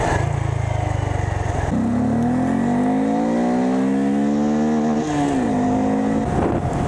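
A Honda Grom motorcycle runs steadily on a test ride, its small engine humming and rising in pitch as it accelerates, with a brief shift partway through; quiet, continuous, and alone without talk.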